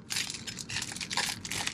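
A knife cuts through something crinkly inside a car, a Skoda Enyaq, giving a close run of dry crunching, crackling strokes in several bursts with no talking.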